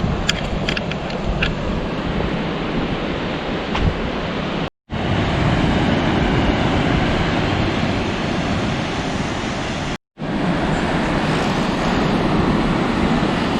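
Ocean surf below the crumbling sandstone cliffs at Diamond Bay in Vaucluse, Sydney, a loud, continuous roar of waves and wind on the microphone, briefly cut by two short dropouts, with no one speaking.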